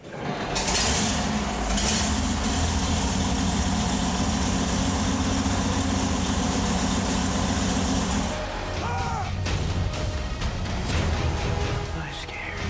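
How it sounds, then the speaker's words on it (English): A German Tiger tank's heavy engine starts up and rumbles loudly with a deep low drone, shifting partway through amid battle clatter and shouted voices. "Just hearing the Tiger's engine roar into action sent a shudder down our spines."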